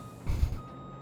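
A short reversing alarm tone sounds from an articulated lorry in a farming simulator game, with a low truck engine rumble swelling briefly underneath, close and fairly quiet.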